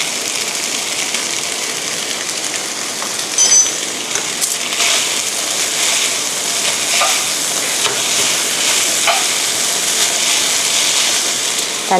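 Thin mee sua wheat noodles sizzle and hiss steadily in a hot pan, with occasional scraping and clinks of a utensil stirring through them.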